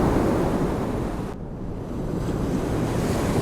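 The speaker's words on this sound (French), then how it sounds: "L'absence de vent a permis à la houle de bien se former." Ocean swell breaking at a beach after windless conditions, a steady broadband roar of surf with a brief dip in the wash midway before the rolling waves build again, no voices.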